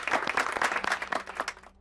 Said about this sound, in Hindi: तालियां बजाइए हमरे लिए, बजाइए तालियां